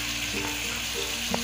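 Ginger, garlic and whole chili paste sizzling in a pan with onions and tomatoes for mutton nihari, a continuous close frying hiss with a few faint stirring touches over the short stretch.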